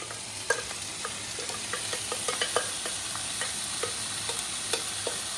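Vegetables and roasted paneer stir-fry in a pan for fried rice, a steady sizzle broken by repeated sharp clacks and scrapes of a spatula against the pan, close and alone.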